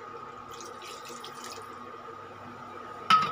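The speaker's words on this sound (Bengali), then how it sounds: "এই জলটা ওই গোলানো জলটাও দিয়ে দিচ্ছি।" Water poured from a vessel into a pot of simmering chicken curry on an induction cooktop, a soft steady trickle over a low kitchen hum, ending in a brief louder splash.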